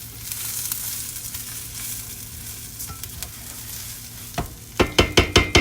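Rice browning in a pan for Spanish rice, a steady close sizzle under soft stirring scrapes, ending in a run of sharper, louder scraping strokes.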